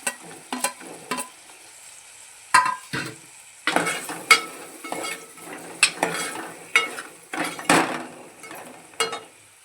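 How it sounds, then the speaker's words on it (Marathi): Sambar being stirred in a pot with cut pumpkin and drumsticks, a spoon scraping and clinking against the metal in irregular bursts over a soft sizzle, close and alone with no talking. "चांगलं ढवळून घेऊया।"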